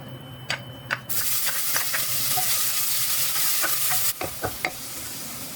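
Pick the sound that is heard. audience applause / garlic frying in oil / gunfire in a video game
garlic frying in oil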